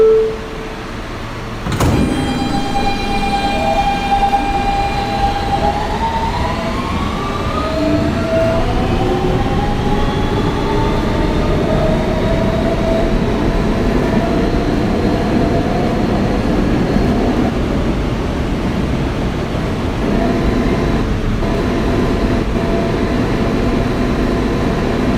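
A Brooklyn-bound Kawasaki R160B-2 Siemens R local subway train gets underway, its traction motors rising in a climbing electric whine over a steady rumble and rattle of the cars, continuous and close from inside the carriage.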